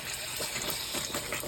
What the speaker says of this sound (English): Let the water pressure back in.